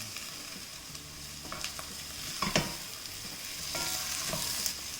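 Potato and curry leaves frying in oil for an egg curry, a soft steady sizzle with occasional stirring scrapes and a few louder spatters, close and fairly quiet.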